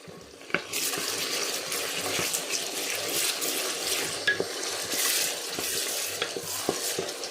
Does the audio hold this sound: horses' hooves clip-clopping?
no